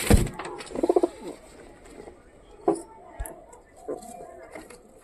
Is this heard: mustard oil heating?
no